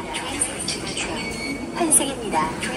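A metro train stands at a station under construction during Korean New Year holidays, giving a hum with faint squeals and rumble under someone talking close by.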